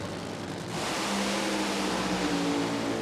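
Nitro funny car at a drag strip racing down the quarter mile, a loud continuous engine roar rising after a quieter start and holding steady throughout.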